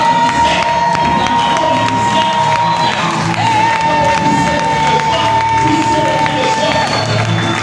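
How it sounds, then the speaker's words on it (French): A church congregation cheers and shouts for joy for the pastor's wife, a dense, loud crowd roar with whoops and high voices sustained throughout. "je veux que tu pousses les cris de joie pour la maman"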